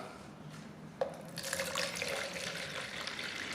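Tap water pours into a jug placed in a catch basin for a practical Archimedes displacement demonstration, filling it to the brim. After a faint drip the flow starts abruptly and keeps running steadily and close by, with no talk.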